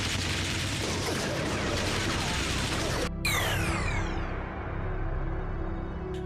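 A gunshot from a Kamen Rider Kabuto episode: a loud, dense roar of action noise cuts to a sharp blast followed by a ringing, sweeping tail, with no talking.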